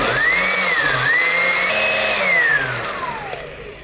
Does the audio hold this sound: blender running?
yes